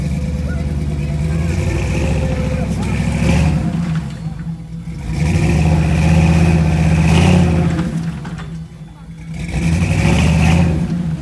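An off-road vehicle engine revs and surges in repeated waves, straining loudly up close as it climbs a rocky hill, with a rough low rumble throughout.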